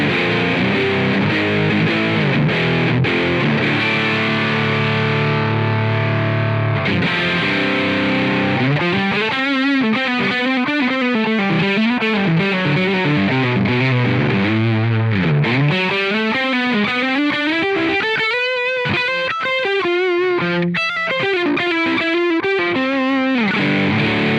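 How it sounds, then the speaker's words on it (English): Electric guitar played through the PROdrive, a Rat-style high-gain distortion pedal in AmpliTube 5, loud and saturated, with sustained chords giving way to bending, sliding lead lines, alone without talk. "PROdrive, is that a distortion? Oh yeah, that's a rat"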